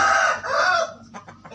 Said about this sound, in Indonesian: Seueur ayamna tuh.